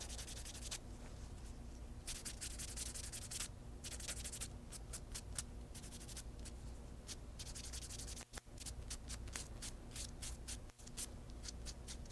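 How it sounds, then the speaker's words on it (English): A nail buffer rubbing across toenails during a pedicure, steady rapid scratchy strokes close up, with brief pauses between passes. "Buffing is great for removing discolored toenails, yellowing on the toe, ridges"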